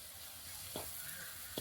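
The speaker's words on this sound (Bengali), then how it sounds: "এইভাবে একটু নেড়ে চেড়ে সুজিটা ভালো করে একটু সেদ্ধ করে নেব।" Semolina simmering in water in a pan gives a faint, steady bubbling hiss, broken twice by soft scraping strokes of a spoon stirring it.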